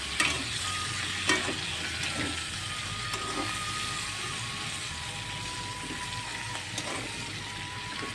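Potatoes and spring onions fry in a pan with oil, a continuous close sizzle broken by occasional scrapes and clinks of stirring, with no talking.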